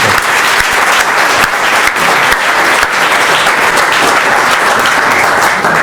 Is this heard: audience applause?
yes